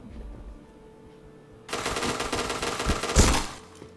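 Rapid automatic gunfire from a video game, starting abruptly after a quiet stretch and continuing as a dense, loud burst with a sharper peak near the end.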